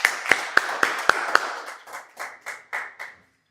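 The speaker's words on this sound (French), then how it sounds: "Applaudissons pour elle." Hand clapping in a church teaching session starts with several sharp, evenly spaced claps, then softens into looser, fading applause.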